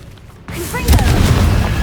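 A Confringo blasting spell detonates in a Harry Potter video game: a sudden loud boom after a quiet moment, followed by a rumbling, crackling blast that sustains and swells briefly.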